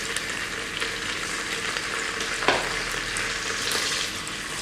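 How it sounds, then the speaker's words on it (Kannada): Paneer frying lightly in about two tablespoons of oil in an electric cooker gives a steady, dense sizzle from start to finish, close and unbroken, with one brief stir-like scrape midway. "ಇವಾಗ ಇದಕ್ಕೆ ನಾನು ಸ್ವಲ್ಪ ಪನ್ನೀರ್ ಹಾಕ್ಕೊಂಡು ಫ್ರೈ ಮಾಡ್ಕೋತೀನಿ ಲೈಟಾಗಿ."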